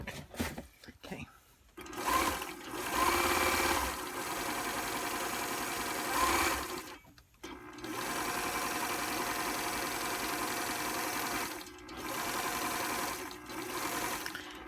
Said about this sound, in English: Get the pieces all lined up and then just stitch the neck.